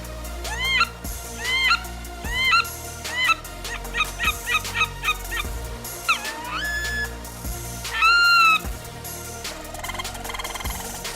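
A duck call imitates the sitting sounds of wood ducks: a string of short, squeaky rising whistles and peeps in quick bursts, then longer drawn-out squeals, close and clear with no talking.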